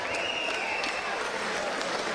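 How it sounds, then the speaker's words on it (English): A crowd at a live boxing event in Beverley, UK, applauds both boxers after four rounds, producing a steady, dense wash of clapping that holds evenly for about two seconds. "could we please have a big round of applause for both of our"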